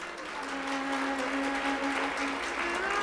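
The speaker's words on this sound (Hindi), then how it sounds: "अब ताली बजाओ इनके लिए।" Audience at a Hindu satsang discourse applauding at a steady, sustained level throughout, with a faint tonal hum running beneath the clapping.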